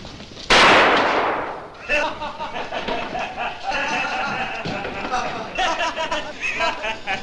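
Thrown fireworks bang in a street in 1961, one sharp loud burst followed by crackling and popping mixed with crowd chatter and nearby voices.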